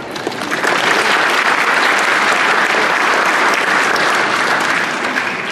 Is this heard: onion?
no